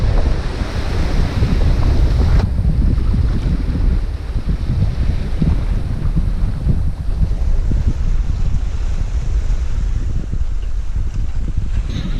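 Strong wind blowing 15 to 18 knots around a point on the Alaska Peninsula buffets a sailboat, a steady loud roar of gusts and microphone wind noise mixed with surf and water rushing along the hull, continuous throughout.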